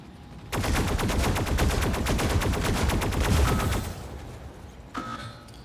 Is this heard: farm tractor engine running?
no